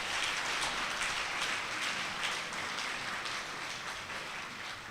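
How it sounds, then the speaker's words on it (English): Audience applause for a female lecturer at a university inaugural lecture: a steady, dense wash of clapping from a crowd, moderately distant and sustained throughout without talk. "Let's give her a round of applause once again."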